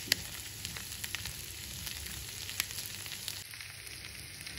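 Mayonnaise added to a pan over a medium gas flame for cheesy corn, sizzling: a soft, steady frying crackle with scattered small pops, close and fairly quiet, no speech.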